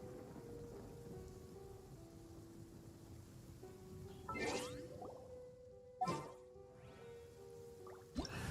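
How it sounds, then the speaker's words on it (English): Steady rain falls on a courtyard in the game Genshin Impact, a constant hiss with a few louder splashes and sharp bursts, while soft sustained background music tones run underneath; no talking. "I love listening to the rain from the courtyard."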